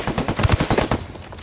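Automatic gunfire in the video game Ghost War rattles in a rapid, loud burst of shots, with a couple of heavier booming reports near the middle, all up close.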